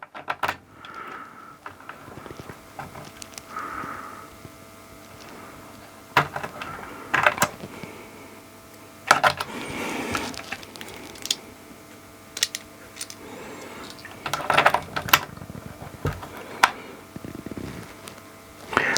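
A switch and washer being fitted into a Marshall 2204 clone amplifier chassis, with scattered close metallic clicks, taps and small rattles in irregular bursts.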